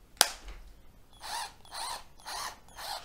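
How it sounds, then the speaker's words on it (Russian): A DEKO 12V cordless drill-screwdriver being tested, a sharp click, then four short whirring motor bursts of about half a second each, close and clear with no talk. "Шуруповерт работает"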